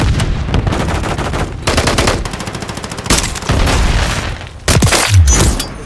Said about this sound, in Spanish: ¡Va granada!